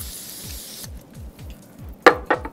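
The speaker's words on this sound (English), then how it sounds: "So I'm gonna use my beauty blender and some Evian spray." Evian facial water is spritzed onto a beauty blender makeup sponge, two quick, sharp hissing sprays near the end after a quieter stretch.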